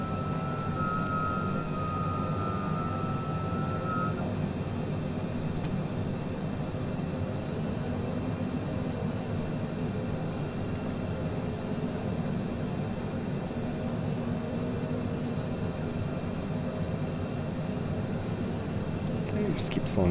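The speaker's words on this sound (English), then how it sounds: "Popping the speed brake out to get the plane slowed down. Drop the gear and flaps 15 to help us slow it down." A simulated Cessna Citation CJ4 business jet in Microsoft Flight Simulator 2020 slows on approach with speed brake, gear and flaps out, producing a constant loud low engine and airflow drone throughout, with a brief tone early on.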